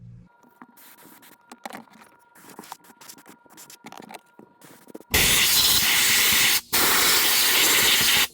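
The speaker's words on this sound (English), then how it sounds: "I'm just going to spray down this whole area with some brake cleaner just to get all the oil off the bottom of the engine." Brake cleaner sprays in a loud, steady hiss under the engine of a 2021 Can-Am Outlander 850 ATV, coming in two long close bursts after some quieter workshop shuffling and clinks.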